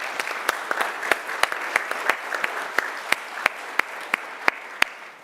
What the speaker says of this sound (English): That was good applause.